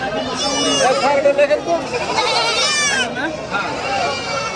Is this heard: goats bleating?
yes